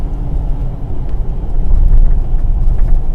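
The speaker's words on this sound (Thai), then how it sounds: "ตอนขณะขับขี่ก็ยังได้ยินเสียงเทอร์โบอยู่นะคะ" Steady low engine rumble inside a Ford Raptor cabin while driving, with a faint turbo whine riding over the road noise at a constant level, no talk.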